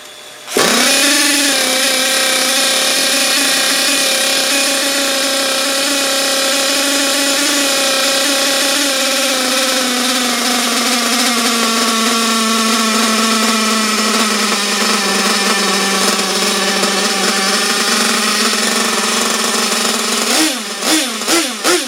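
Thunder Tiger ST-1 nitro RC car engine clamped in a vise in a garage, running at a loud, steady high-pitched buzz for about twenty seconds, with throttle blips and sputtering near the end.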